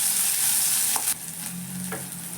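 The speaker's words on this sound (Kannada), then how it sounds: "ಇವಾಗ ನಾನು ಈರುಳ್ಳಿಯನ್ನು ಹಾಕಿ ಫ್ರೈ ಮಾಡ್ತಾ ಇದ್ದೀನಿ" Onions and green chillies fry in a pan for tomato gojju, a continuous bright sizzle with two short stirring scrapes of the spatula partway through.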